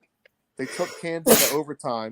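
A single sharp sneeze bursts out in the middle of sports talk on a high school basketball podcast, close and loud, with a man's speech before and after it.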